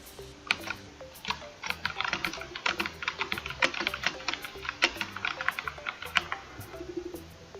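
Steady typing on a computer keyboard, a close run of sharp, irregular key clicks over several seconds with a few heavier taps and no talking.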